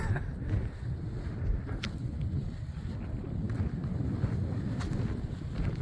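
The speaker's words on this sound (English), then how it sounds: "I know the wind is pretty strong" Strong wind buffets the microphone outdoors at a stucco job site, a steady low rumble with gusty roar throughout and a few faint distant clicks.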